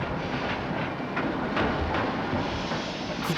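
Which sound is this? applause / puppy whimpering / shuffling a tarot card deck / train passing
train passing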